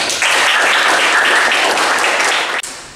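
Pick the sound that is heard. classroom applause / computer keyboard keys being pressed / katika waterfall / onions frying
classroom applause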